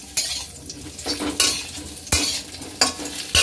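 Sun-dried mango pieces sizzle in hot oil while a utensil stirs them, giving several distinct scraping strokes at roughly regular intervals over a steady background hiss.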